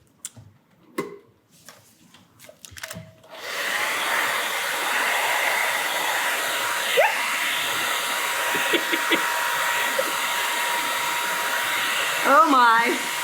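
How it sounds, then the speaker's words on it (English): A hair dryer blows steadily on freshly stenciled paint, a loud continuous whoosh that runs from about three seconds to the end after a few scattered handling knocks at the start. "and let me blow dry."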